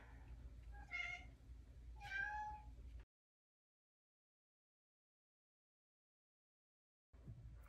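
A domestic cat meows twice in quick succession, close and fairly quiet, followed by a long stretch of silence.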